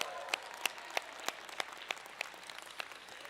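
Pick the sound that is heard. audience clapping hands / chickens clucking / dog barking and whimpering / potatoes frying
audience clapping hands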